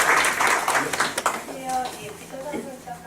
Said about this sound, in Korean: 일단 박수 한번 주시죠.